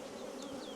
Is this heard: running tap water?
no